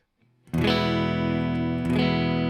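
A single chord struck on a PRS SE electric guitar using the neck humbucker pickup and left to ring, warm and full-bodied, sustaining steadily with a light re-strike near the end.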